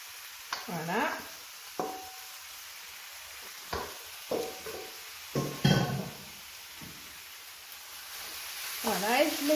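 Chopped spices cook in a little oil in a pan for Creole boudin blanc, giving a soft, steady sizzle broken by several close scraping stirs.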